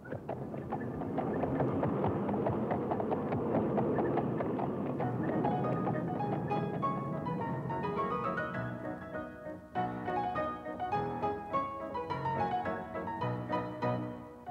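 Horse hooves clip-clop at a steady trotting rhythm, as from a horse pulling a passenger car on rails along unpaved 1859 city streets, and music plays loudly over them throughout.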